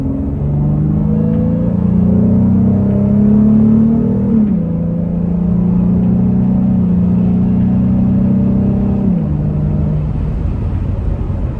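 An Aftermath Razorback car accelerates up a freeway on-ramp, its engine droning loud and close with rising pitch through two gear shifts, a deep rumbling tone held steady between them, with no talk.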